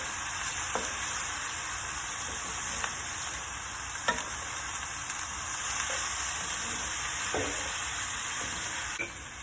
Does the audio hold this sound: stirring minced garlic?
yes